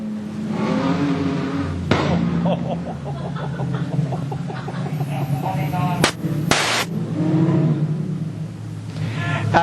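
Production sedan race cars at Carina Speedway roar past, engine tones rising and falling under a commentator's voice, with a couple of sharp loud bangs near the middle.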